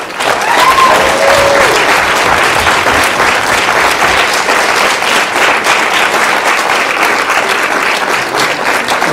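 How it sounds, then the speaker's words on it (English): An audience at a school spelling bee gives the champion a loud, sustained round of applause, dense steady clapping that fills the room and holds without a break. "Let's give Grant another round of applause."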